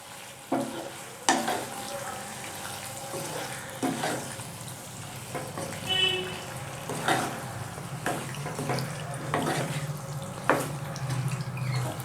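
Penne pasta with Bandel cheese gets a last stir in a pan, with a sizzling background and intermittent scraping, clinking strokes of a utensil against the cookware, close and moderately loud, without talk.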